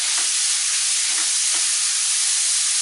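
Grated bottle gourd hits hot ghee in a pan for halwa, giving a loud, close, continuous hissing sizzle that stays even and unbroken from start to finish with no voices.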